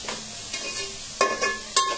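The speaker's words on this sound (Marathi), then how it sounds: "गाईस आता थोडा थोडा राईस मिक्स करायचा आणि मसाला नीट मिक्स करून घ्यायचा" Fried rice with vegetables and masala being stirred in a hot pan, close and sizzling, with sharp scraping strokes of the spoon against the pan.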